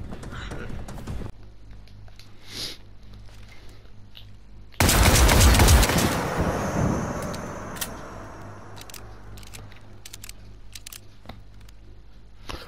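Burst of rapid gunfire from a weapon in the video game Generation Zero, a loud dense volley lasting about a second that decays into a lingering tail over a quiet low hum.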